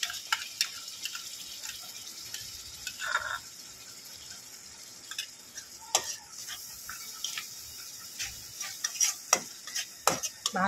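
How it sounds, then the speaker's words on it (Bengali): Spiced masala with sour curd being stirred and fried in a pan for okra, with soft sizzling and irregular scrapes and clinks of the spatula against the pan, close and moderately quiet. "ভালো করে এটা কষিয়ে নেবো।"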